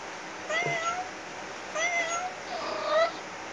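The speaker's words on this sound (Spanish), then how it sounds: "Aquí está el gato, mira, ¿ves?" A house cat meows three times in a domestic setting, moderately close, with short gaps between calls and no talk over them.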